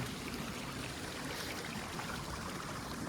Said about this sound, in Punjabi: ਬਾਕੀ ਚੱਲ ਪਿਆ ਪਾਣੀ ਕਰੋ ਚੈੱਕ